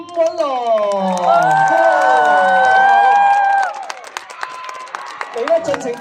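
An audience cheers at a stage event celebrating a birthday, loud sustained shouts and whoops rising together into a long held roar, then breaking into scattered claps and calls.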